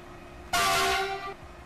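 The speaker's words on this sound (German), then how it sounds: "Oh, jetzt hupt der nächste wieder." A locomotive horn in the Train Fever railway game sounds a single sustained tonal honk of about 0.8 seconds. It is loud and near, with steady harmonic tones over a quiet background.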